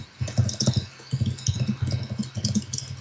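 Rapid clicking of fingers typing on a computer keyboard during an online video call, bursts of close keystrokes with brief pauses between them.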